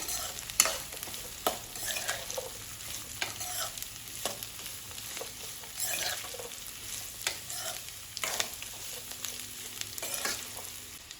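Chopped ridge gourd stirred in a pan after garlic has been fried, with a steady soft sizzle under repeated scraping and clacking strokes of a spoon, close and continuous, with no voices.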